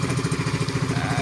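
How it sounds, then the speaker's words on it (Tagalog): A small boat's engine runs at a slow pace, a steady chugging thrum with an even pulsing rhythm, close and loud throughout. "At maliit na kasi yung makina natin amigo, kaya medyo mabagal yung takbo natin."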